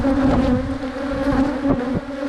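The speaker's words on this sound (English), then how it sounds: "Killer bees, buddy." Killer bees swarm loudly around an opened beehive nuc, a dense, close, continuous buzzing drone with individual bees zipping past the ear.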